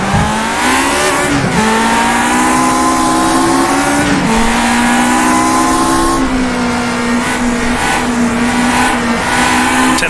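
A race car engine in the rFactor 2 racing game screams at high revs, dropping in pitch with quick gear shifts, then climbing steadily, loud and continuous throughout with no voices.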